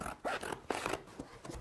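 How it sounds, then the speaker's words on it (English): Scissors cutting a circle out of cardboard, heard up close as a few short, crisp snipping strokes in quick succession with no talking. "With the help of a responsible adult, very carefully cut out the whole circle."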